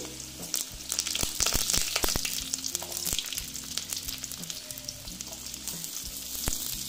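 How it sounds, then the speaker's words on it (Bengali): Carrots drop into a hot spice tempering in a pan for dalia khichdi, setting off a steady close sizzle with scattered crackles and pops and some light stirring, loudest at first and then settling. "ফোড়নটা হয়ে গেছে, এবার আমি গাজরটা দিয়ে দিচ্ছি"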